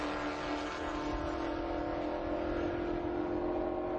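Race cars cross the finish line at Utah Motorsports Campus in a qualifying race, with a continuous engine drone and a steady whirring tone, held at a moderate, even level with no distinct pass-by peak.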